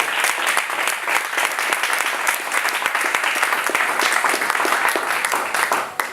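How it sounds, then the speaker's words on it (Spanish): A church congregation applauds in a sustained, dense wash of clapping that stays steady and loud throughout, many hands at once filling the room, with no speech on top. "Denle fuerte el aplauso a Él."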